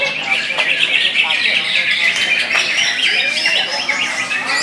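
A green leafbird (cucak ijo), a Banyuwangi type, sings loudly and close, pouring out fast, varied chirps, trills and sharp whistled phrases without pause, with people talking faintly in the background.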